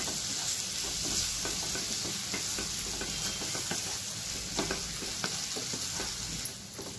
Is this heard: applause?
no